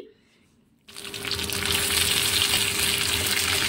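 Ground kharkol leaf paste, for a dish with prawn heads, dropping into hot oil and being stirred: quiet at first, then a sudden loud, dense sizzle that swells and holds steady up close.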